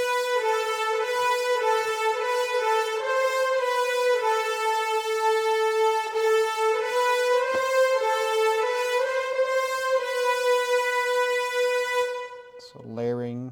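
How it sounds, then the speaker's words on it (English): Layered orchestral French horns play legato, sustained melodic lines from a cover, full and steady for about twelve seconds before a brief low note closes it. "I did also layer it with French horns."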